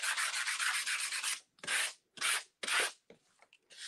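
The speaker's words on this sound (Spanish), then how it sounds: "Después le he dado una lijita." Sandpaper scrubs over wood painted in a chocolate color, first in quick rhythmic back-and-forth strokes, then in three separate longer rasping passes, close and crisp with no talking.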